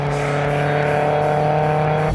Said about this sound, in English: Paul Manigault comes round to take the final bend and victory in race 2 of the Sabella Marque cars at Phakisa.